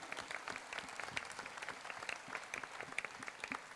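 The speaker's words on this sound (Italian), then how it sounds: "Un applauso anche per il nostro Antonio" Festival audience applauding steadily at an outdoor summer homecoming celebration in Vasto, a dense even patter of many hands clapping at moderate distance, with no voices over it.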